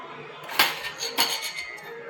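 Yogurt is churned in a pot, heard as a few clinking, scraping strokes of a utensil against the vessel at an uneven pace, close and moderately loud.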